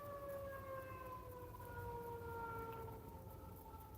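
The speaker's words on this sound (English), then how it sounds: "you can hear the fire truck in the background" A fire truck siren wails faintly in the distance, its steady tones sliding slowly downward in pitch over a continuous low background rumble, with no talking.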